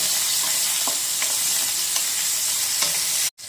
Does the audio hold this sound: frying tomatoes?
yes